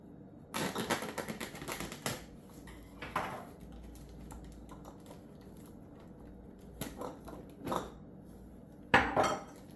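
Glass jars clink and rattle against one another and the sink while being washed, with clustered clattering bursts separated by quieter stretches and a sharper knock near the end; nobody speaks.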